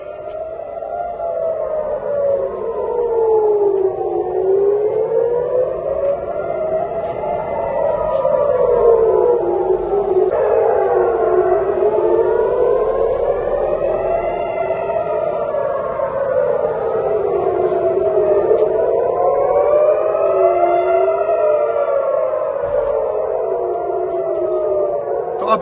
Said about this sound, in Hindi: लगातार सायरन बज रही है।